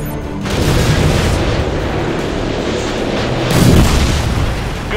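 A heavy air-to-ground missile blast in a Modern Warfare 2 game: a loud, sustained rumbling boom that rolls on for several seconds, swelling again near the end.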